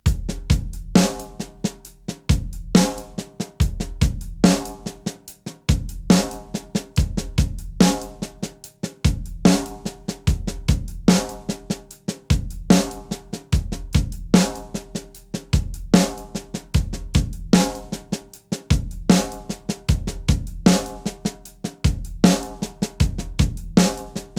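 Drum kit playing an eighth-note paradiddle groove in 13/16, loud and close, with punchy kick and snare hits and steady cymbal strokes repeating in an odd, looping cycle throughout.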